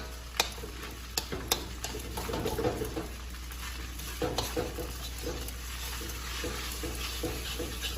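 A spatula stirs fried rice with vegetables in a hot pan: soft scraping and light sizzling, quiet and close, with a few sharper knocks early on.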